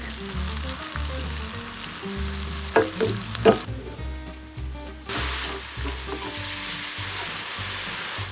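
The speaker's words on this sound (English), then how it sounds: "So we just need to brown the onions and the garlics, not necessarily like blackening them." Finely sliced red onion and chopped garlic fry in a pot for one-pot masoor dal, a close, steady sizzle with a few stirring clinks and scrapes and no voices.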